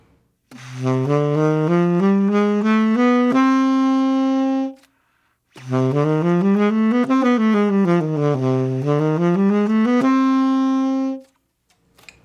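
Clear instrumental notes of a bebop jazz scale climbing and descending step by step in two unbroken runs, each ending on a held tone, with a short pause between them.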